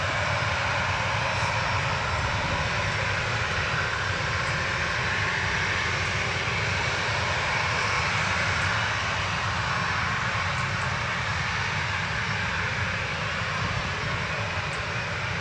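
An Aer Lingus airliner banks to the right after takeoff from Manchester Airport, its engines a loud, steady roar that holds unbroken for the whole stretch with no voices over it.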